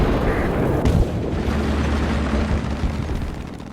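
A tank cannon firing in War Thunder, a heavy booming blast near the one-second mark followed by a long rumbling roll of low engine and battlefield noise, loud and close, with no talk over it.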